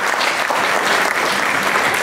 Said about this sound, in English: A round of applause, ladies and gentlemen, for a wonderful presentation